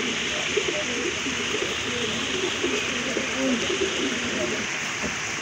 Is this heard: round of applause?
no